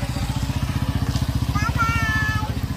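A motorcycle putters steadily close by with a fast regular engine pulse throughout, while a faint high squeal rises near the end.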